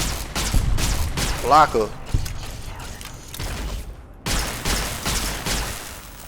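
Gunfire rings out in Fallout: New Vegas, a series of sharp close shots and thuds that break up in-game robotic voices and a speaking player.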